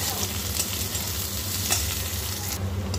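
Chopped onion frying in a little oil in a pan, giving a steady, close sizzle with occasional stirring scrapes, continuous throughout.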